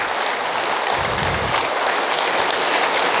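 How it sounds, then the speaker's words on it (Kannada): An audience at a free foot pulse therapy camp claps loudly and steadily throughout, a dense sustained burst of applause with no pauses. "ಯಾವಾಗ ಚಪ್ಪಾಳೆ ಹೊಡಿಲಿಕ್ಕೆ ಅವಕಾಶ ಸಿಗ್ತದೆ ಆಗ ಚೆನ್ನಾಗಿ ಜಮಾಯಿಸಬೇಕು"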